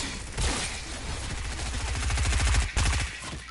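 Sustained rapid automatic gunfire rattles from a Fortnite match, loud and dense, with a steady run of shots that pauses briefly near the end before resuming, and no voices.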